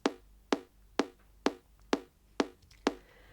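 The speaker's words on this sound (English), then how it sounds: "When you listen to the kick now on the EXS24, it sounds like this." The click layer of an EDM kick on the EXS24 sampler, its low end cut to about 300 Hz, ticks seven times at a steady pace, thin, sharp and dry, alone.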